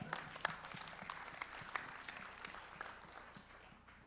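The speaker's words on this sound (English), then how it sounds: "Another big applause for Mance Harmon." Faint applause from the audience at a livestreamed Hedera annual assembly in Seoul, scattered claps with a few sharper hits, gradually tapering off.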